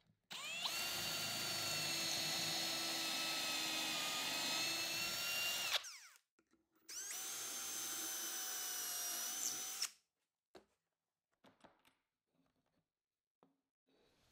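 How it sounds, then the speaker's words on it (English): A power drill bores pocket holes in a 3/4 inch board clamped in an Armor Tool auto jig: two loud, steady whining bursts, the first about five seconds and the second shorter, followed by faint clicks and handling noises. "and drill the pocket holes."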